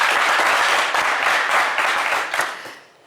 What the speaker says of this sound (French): Allez, on vous applaudit bien fort